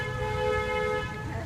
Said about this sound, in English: I'm going to honk my horn.